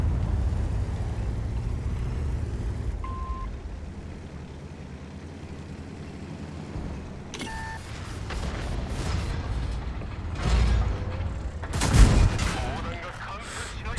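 Tank cannon shots in World of Tanks: several sharp booming blasts near the end with low rumbling engine noise between them, one shot standing out loudest around the twelfth second.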